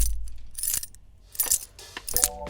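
A bunch of keys jangling for a foley sample, several bright metallic clusters of clinks and rattles in quick bursts, close and clear with no voices.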